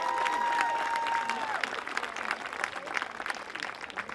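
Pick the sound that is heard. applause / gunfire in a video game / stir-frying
applause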